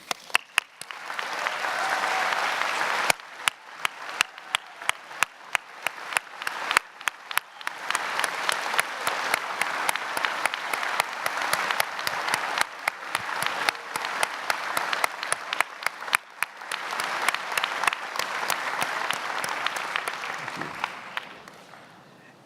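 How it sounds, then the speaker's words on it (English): Sustained applause from a large audience giving a standing ovation at a Case Western Reserve law school commencement, dense steady clapping that continues for about twenty seconds before tapering off near the end. "please at this time rise so that we may show our appreciation with an enthusiastic Case Western Reserve ovation"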